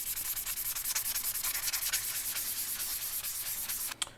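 Steady, rhythmic rasping of sandpaper rubbing against a smooth 3D-printed plastic spinner, close and continuous, ending with a brief knock.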